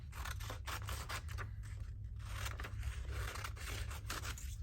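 Regular scissors cut paper at a craft table, a run of crisp scraping snips in an uneven rhythm, close and fairly quiet, with no talk.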